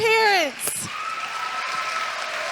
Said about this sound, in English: Can we give a round of applause for these parents?